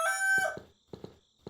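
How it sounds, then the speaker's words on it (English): Rooster crowing in the farming video game Farming Tycoon, a single short crow followed by a few soft clucking notes, faint and heard alone. "The roosters will give us a quick crow"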